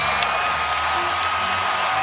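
A basketball arena crowd at a Lakers versus Celtics game, a dense, loud roar of cheering that stays steady and unbroken throughout.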